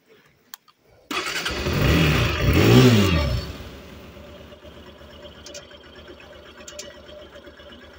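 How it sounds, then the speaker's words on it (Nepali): A motorbike engine cranks and catches after a second of quiet, revs up loudly up close for a couple of seconds, then settles into a steady idle on a rural roadside in Lamjung, Nepal. "यहाँ छ मेरो बाइक चाहिँ"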